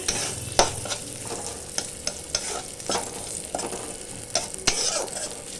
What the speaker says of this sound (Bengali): এবার এটা ভালো করে ভেজে নিই। এদিকে বেগুনটা ধুয়ে নিয়েছি, ধুয়ে জলটা ঝরিয়ে নিচ্ছি। এদিকে ভাজা প্রায় হয়ে এসেছে।